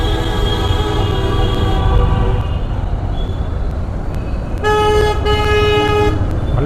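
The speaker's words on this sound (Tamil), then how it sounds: "டிராஃபிக் தான், ஃபுல்லாகவே டிராஃபிக்" Heavy road traffic at a busy junction in Coimbatore hums and rumbles steadily while vehicle horns blare, with a long held toot early on and another loud sustained honk near the end.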